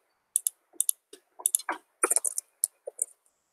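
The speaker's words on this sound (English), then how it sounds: "Also, I am bad at typing." Someone types on a computer keyboard: a short, close burst of crisp, uneven key clicks in quick clusters, with brief pauses between them in an otherwise quiet room.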